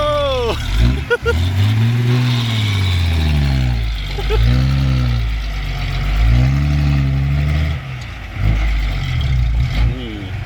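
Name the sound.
ten-wheeler truck engine straining up a difficult road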